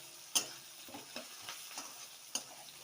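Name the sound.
onions frying in white oil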